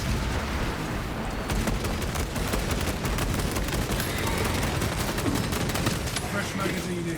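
Rapid, dense gunfire from a charge gun in the Warhammer 40000: Space Marine 2 video game rattles on without a break, loud and sustained throughout.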